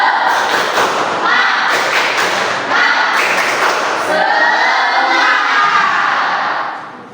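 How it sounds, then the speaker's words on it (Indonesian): A classroom group doing a rhythmic spirit clap during a lesson, dense loud claps in patterned bursts with voices mixed in, fading off at the end. "boleh kita tepuk semangat dulu"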